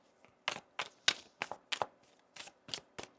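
Tarot cards being shuffled at close range, a run of crisp riffling snaps and taps in an uneven rhythm, quiet overall with no talking.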